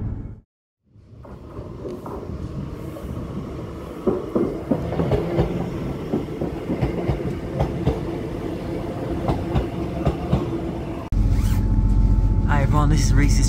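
A Northern Class 158 diesel train on the Bentham Line rumbles along from on board with scattered clicks and handling rustles, and the rumble swells louder toward the end.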